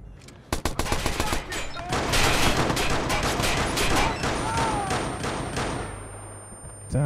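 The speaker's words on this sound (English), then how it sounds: "they've got all machine guns and everything" Dense bursts of rapid automatic gunfire from a shootout in the video game Watch Dogs, loud and sustained for several seconds with overlapping shots, then tapering off near the end.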